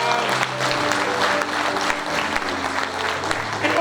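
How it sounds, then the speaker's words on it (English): An audience at a university research week awards ceremony applauds its winners, with sustained, dense crowd clapping that stays loud and even throughout. "Another round of applause to our winners."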